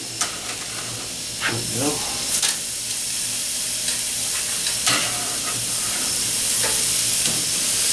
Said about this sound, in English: Okay, I'm going to get my pork chops on.